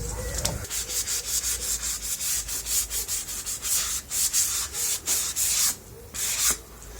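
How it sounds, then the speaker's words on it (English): Rhythmic hand sanding with a small sanding sponge on a fiberglass fish tail fin, a steady back-and-forth scratchy rubbing repeated many times close up, with no talking. "I used this little sanding sponge to do the final finishing on it."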